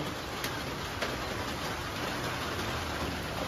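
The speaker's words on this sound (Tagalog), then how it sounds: "Kanina pa itong ulan." Heavy downpour of rain beating steadily on surfaces during a flood, a dense, even hiss that holds at constant loudness throughout with no voices.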